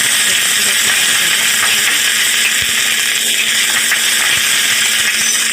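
Onions frying in a pan for an Odia chana dal curry give off a loud, steady, hissing sizzle that fills the whole stretch without pause, close up and with no speech.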